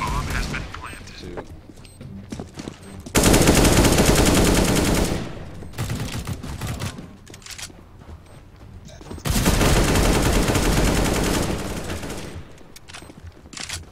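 Rapid bursts of automatic gunfire from the CS:GO video game during a bomb-planted round, two long loud volleys with quieter game sounds and a voice talking in between.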